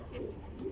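Pigeons on a rooftop give a brief, soft, fairly faint cooing call.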